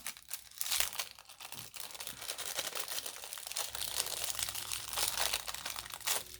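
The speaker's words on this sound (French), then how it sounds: "Voilà, j'enlève le papier. Je suis désolée pour le bruit." Paper wrapping is torn and crumpled off die-cut stencils close by, a steady run of loud crinkling and ripping with a few sharper tearing bursts.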